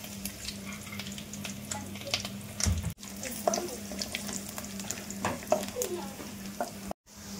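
Curry leaves and peanuts fry in hot oil for tamarind rice, a steady close sizzle with stirring scrapes and occasional crackles, briefly cutting out near the end.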